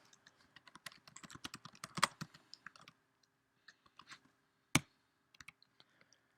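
Quick bursts of computer keyboard typing, close and fairly quiet, with clusters of crisp key clicks, short pauses, and one sharper isolated click near the end.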